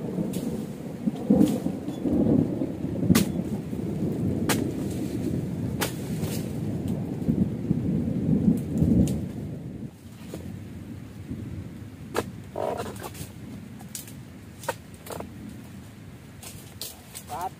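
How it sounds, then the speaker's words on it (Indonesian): Rain falls steadily during a drizzly oil palm harvest, with low rumbling and a string of sharp cracks and taps scattered across it, and a voice talks intermittently over the wet ambience. "Harinya hujan bos,"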